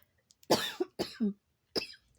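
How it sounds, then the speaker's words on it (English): Several coughs from a person recovering from COVID, a burst of two quick harsh coughs followed by a pause and then another pair, close and fairly loud with no talking. "as I cough"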